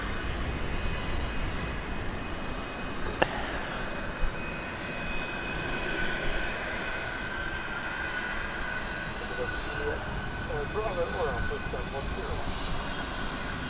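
A BA CityFlyer airliner touches down and rolls out at London City Airport, its steady jet engine roar heard from a distance throughout, with a voice talking over it.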